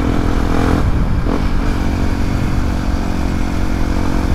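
A standard-engine Yamaha WR155R motorcycle held near top speed in sixth gear gives a loud, steady engine drone with heavy wind rush, with a brief dip in tone about a second in.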